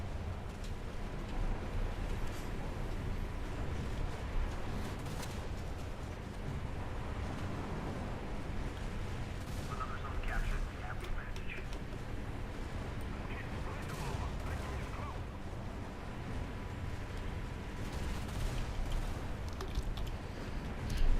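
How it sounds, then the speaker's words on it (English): Naval combat in the War Thunder naval beta, with steady rumbling gunfire and scattered booming shots from ships, a constant dense battle din running throughout, along with torpedo launches. "Launch some torpedoes over there as well."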